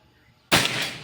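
An air gun fired at a thick steel plate during an accuracy test, one sharp loud crack bursting out of near silence and ringing briefly.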